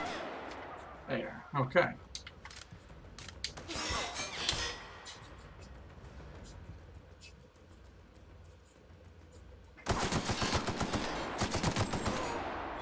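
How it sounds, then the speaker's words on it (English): Gunfire in The Outer Worlds: scattered sharp shots near the start, then a dense, rattling volley of rapid fire near the end, with a voice speaking briefly in between. "Who's shooting at me?"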